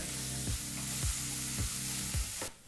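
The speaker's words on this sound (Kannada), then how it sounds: "ಈಗ ಮೀಡಿಯಂ ಫ್ಲೇಮ್ನಲ್ಲಿ ಎರಡರಿಂದ ಮೂರು ನಿಮಿಷ ಈರುಳ್ಳಿನ ಚೆನ್ನಾಗಿ ಫ್ರೈ ಮಾಡ್ಕೋಬೇಕಾಗತ್ತೆ" Chopped onion frying over a medium flame, an even sizzle broken by regular stirring strokes roughly every half second, close up and without speech.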